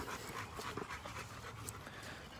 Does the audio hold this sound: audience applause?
no